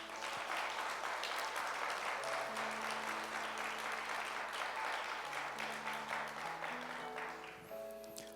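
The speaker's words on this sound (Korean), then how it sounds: "여전도 전국연합회 다시 한번 여러분 박수해 주시기 바랍니다." Congregation at a Holiness church worship service claps together for several seconds, a soft, steady applause heard from a distance, with sustained keyboard notes playing underneath.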